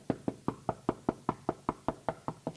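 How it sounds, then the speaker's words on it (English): Knuckles knocking on a door, about a dozen sharp, evenly spaced raps in a steady rhythm, close and clear with no talking. "he'll come to the door and he's going to start knocking"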